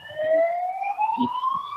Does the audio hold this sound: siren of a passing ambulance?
yes